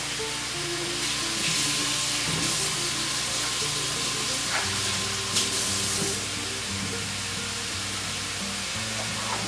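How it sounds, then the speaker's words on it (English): Ground beef and chopped onions brown in a pan, a continuous even sizzle with a steady hiss throughout, a few faint scrapes and clicks of stirring, no voices. "combine the onions with the ground beef, and we're going to cook it until it's nicely browned"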